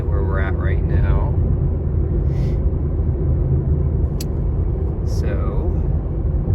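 Steady low road rumble fills the cabin of a Nissan Versa while driving, a continuous engine and tyre drone heard from inside, with a person talking briefly over it.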